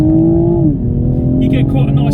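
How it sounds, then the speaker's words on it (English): Toyota Supra 3.0 inline six engine giving a steady, deep thrum that drops in pitch partway through as revs ease, heard from the cabin with a faint higher hiss later. "You get quite a nice thrum from that inline six. It does make a pleasing noise."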